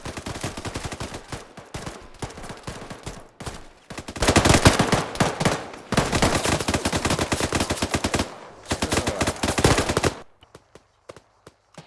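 Rapid bursts of gunfire from a training exercise, loud and close, with dense automatic volleys packed together and brief pauses between them, dying away to quiet near the end.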